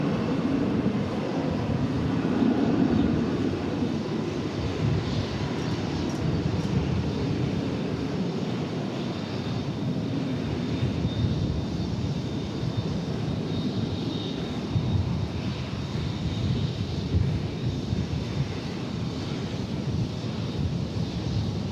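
A jet airliner at DFW Airport roars in a continuous, broad rumble heard from a distance outdoors, steady throughout with some wind noise and no voices.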